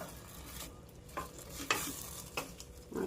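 Turmeric being stirred into tomato curry frying in a pan, with soft scraping strokes and a few louder clinks of the spoon against the pan over a steady low sizzle.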